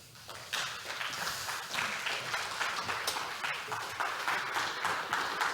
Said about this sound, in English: please welcome with a great round of applause our next presenter, Daniel Miessler.